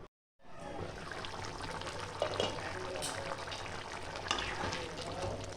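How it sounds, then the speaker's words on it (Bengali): Steady dense bubbling and hissing of a covered pan of dim bhapa, egg curry, simmering on the stove, a constant close sizzle with a few brief sharper pops and no talking. "এবার ঢাকা দিয়ে আমি 3-4 মিনিট ভালো করে ফুটিয়ে নেব।"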